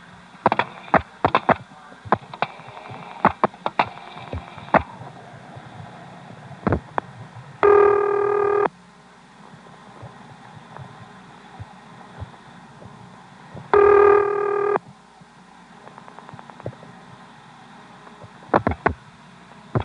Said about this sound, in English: the noise you hear in the background here is the actual carrier noise